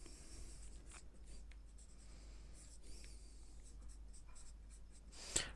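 Pen or chalk scratches across paper or a board during a class 6 math lesson on ratios, in quiet, brief strokes that come in irregular bursts over low room hum, with one sharper tap near the end and no talking.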